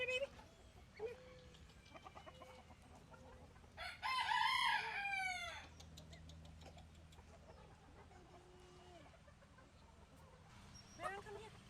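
Chickens cluck softly and intermittently on an organic poultry farm while a rooster lets out one loud, close crow midway, with occasional bird calls and a person speaking nearby.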